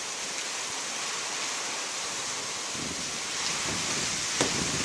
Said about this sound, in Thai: ฝนแรงมากนะคะตอนนี้